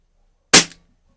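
A single sharp shot from a Snowpeak PP750 4.5mm PCP air rifle without a sound moderator, a short loud crack with a quick fading tail, preceded and followed by silence.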